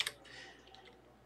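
Quiet computer clicks in a video editor: a sharp click at the start, a soft rustle, then another click a little over a second later, close and isolated.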